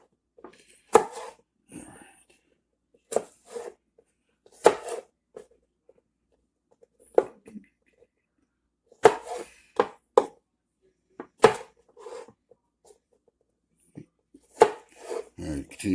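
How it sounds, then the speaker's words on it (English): Small carrots sliced with a knife on a board, sharp separate chops in irregular clusters, close and clear against near silence, with a voice speaking softly at times. "continue to slice them up like this until you go through all your little carrots."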